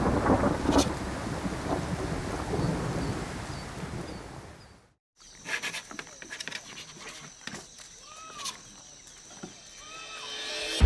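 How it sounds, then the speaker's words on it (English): Night thunderstorm in the Congo with heavy rain hissing steadily, then a brief silent gap followed by lighter dripping rain, scattered cracks and a distant rumble, with occasional faint animal-like calls in the background. "it looks like we're in for a rainy night."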